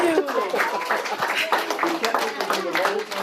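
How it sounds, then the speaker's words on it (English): Clapping for Ms. Thompson as WRAL's Teacher of the Week on a TV news broadcast, a steady patter of hands over a few seconds, mixed with cheerful voices and chatter. "Give her a big round of applause."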